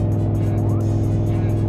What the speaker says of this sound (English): let me speed up a little bit.